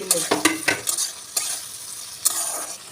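Onion and capsicum are stir-fried in a pan for chili paneer. The sizzle comes with repeated stirring scrapes and spatula knocks, close and fairly loud, and there is no speech.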